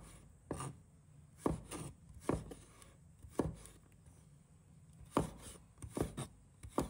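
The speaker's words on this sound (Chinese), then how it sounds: "接下来准备1把大蒜，把它切成片。" A knife slices garlic cloves into thin pieces on a board, giving about nine soft, irregular cutting taps over a quiet background.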